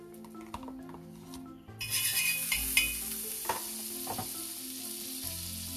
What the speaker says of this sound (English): Now we'll heat a pan, add little butter to this.